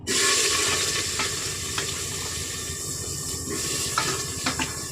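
Hot oil tempering for dal sizzles and crackles steadily in a village kitchen, a loud close frying hiss with occasional stirring scrapes and no voices.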